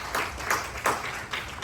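A church congregation claps in a quick, rhythmic run of four soft bursts, sounding somewhat distant and fairly faint.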